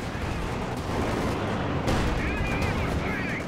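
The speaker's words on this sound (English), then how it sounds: "Suppression from the MG42." MG42 machine gun fire during a competitive Company of Heroes match, a dense, steady roar of rapid gunfire and battle noise running the whole time, loud and close with occasional heavier bursts.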